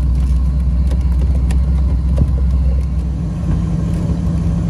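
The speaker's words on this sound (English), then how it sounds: "taking a nice beach cruise in the car." A 1957 Corvette cruising along a beach road, its engine a steady loud low rumble with mild rises in revs, heard from inside the car with no talk.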